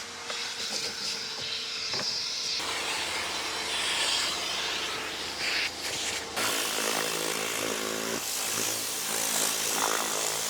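A DeWalt shop vacuum with a Ridgid front adapter drones steadily and loudly throughout, a broad hissing roar that shifts in pitch partway through, as if the nozzle is moved or partly blocked, with no talking.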